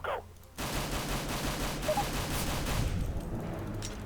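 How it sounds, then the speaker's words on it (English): Counter-Strike: Global Offensive gunfire rattles off in a rapid, continuous automatic burst after a brief quiet moment, loud and sustained to the end. "So we're just going to fire our gun a whole bunch."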